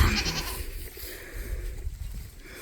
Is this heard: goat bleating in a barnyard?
yes